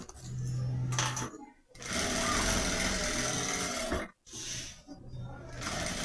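A sewing machine stitches clear crystal plastic onto a fabric toothbrush case, running in long steady whirring bursts with brief pauses between runs, loud and close.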